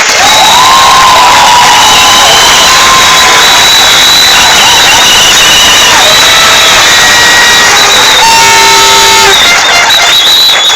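A crowd applauds and cheers loudly for a committee, a dense roar of clapping and shouting with whistles and horn-like toots rising above it, sustained and close.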